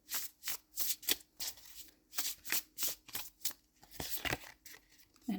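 Tarot cards being shuffled by hand, a rapid run of crisp riffling bursts in a steady rhythm, close and clear with no talking.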